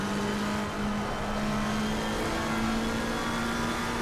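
Race car engine in a racing video game during a team race session at Kyalami, a loud, steady droning whine that holds an even pitch throughout with no talk over it.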